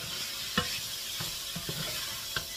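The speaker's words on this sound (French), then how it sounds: "donc là je fais revenir mes lardons" Bacon lardons sizzle quietly in a pan with a steady, faint frying hiss, broken by a few soft clicks and scrapes of stirring.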